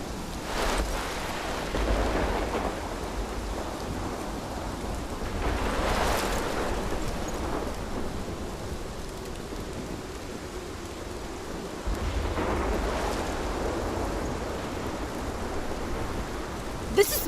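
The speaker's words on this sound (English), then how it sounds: "This is my storm." Thunderstorm with rain in the video game Life is Strange, a steady rain wash broken by three rolling thunder swells spaced several seconds apart.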